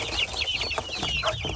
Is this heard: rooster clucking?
yes